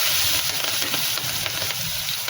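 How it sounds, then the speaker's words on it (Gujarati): Mustard seeds, cumin and chilies crackle in hot oil, a dense, steady sizzle with fine popping throughout, close and loud, with no voices. "તો તેલ આપણું આવી ગયું છે, તો રાઈ ફોડી લઈશું, જીરું,"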